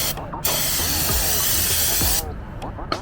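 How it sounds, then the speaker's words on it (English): A loud, steady aerosol spray of cleaner hisses close up onto an engine flywheel for about two seconds, with brief clinks and handling noises before and after. "You wanna make sure you get a good spray on it."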